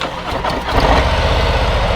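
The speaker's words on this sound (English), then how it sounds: "You want to hit this button to start the bike." A motorcycle engine started with the starter button, cranking briefly then catching and settling into a steady, loud, close idle rumble.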